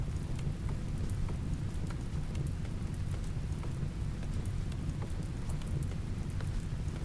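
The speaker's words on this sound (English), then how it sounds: "Oh, at least it's raining now, so that might help put the fire out." Rain falls in the video game RimWorld as a steady, even hiss of rainfall that holds at a constant level throughout, with no talking over it.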